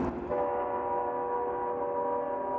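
A train horn sounds in a long sustained chord, steady and moderately loud, with rumbling rail noise underneath and no voices.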